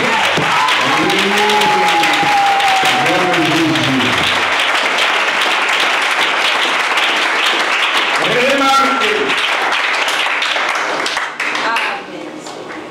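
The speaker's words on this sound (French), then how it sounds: "On acclame mon Jésus" A church congregation applauding and cheering together in a loud, sustained burst of clapping that fills the whole span, with voices shouting over it and music faintly present beneath.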